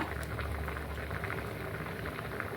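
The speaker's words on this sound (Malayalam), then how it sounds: "നല്ല തിളച്ച് വന്നിട്ടുണ്ട്" Ozhichoottan curry bubbling in a clay pot on a gas stove, a faint, continuous low simmer of soft popping bubbles with no voices.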